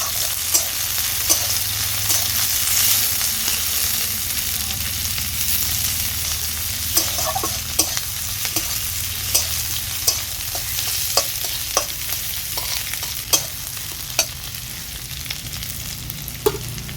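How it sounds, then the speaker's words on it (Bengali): Garlic, chopped onion, green chilies and dried red chilies sizzle in hot oil in a pan, with a steady fry and a string of sharp spoon scrapes and clacks as everything is stirred. "দিয়ে দিচ্ছি থেতে করা রসুন দিয়ে দিচ্ছি পেঁয়াজ কুচি চিড়ে রাখা কাঁচা লঙ্কা সব কিছু নেড়ে করে নিচ্ছি"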